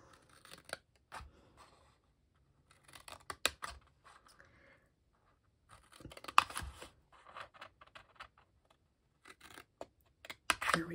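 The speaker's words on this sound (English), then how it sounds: "I'm going to cut them up, each one." Scissors snip paper rectangles for a tea light holder, a series of crisp cutting strokes in short bursts with quiet pauses between, close and clear with no talking.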